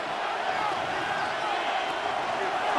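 Simulated stadium crowd roaring steadily in Madden NFL 26 during a Cowboys vs. Commanders game on third down, a dense, continuous wash of cheering with no breaks and a slight swell at the end.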